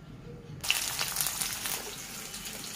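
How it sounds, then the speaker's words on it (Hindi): Mustard oil poured into a hot kadhai in a village kitchen, a sudden splashing hiss that starts abruptly and keeps sizzling steadily, close and moderately loud. "इसमें डालेंगे सरसों का तेल"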